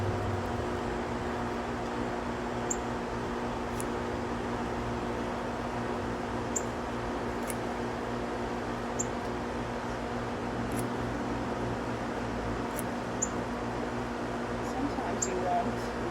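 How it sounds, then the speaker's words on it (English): A noisy air conditioner runs steadily in a garden setting, a constant broadband hum and whir with low tonal drone, fairly loud and unchanging throughout, with faint occasional clicks on top. "here goes my noisy air conditioner."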